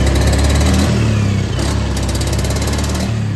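A Honda Beat scooter engine runs steadily and loudly close by, its idle sounding uneven and stumbling from a misfire, with a brief dip in the middle before the running resumes.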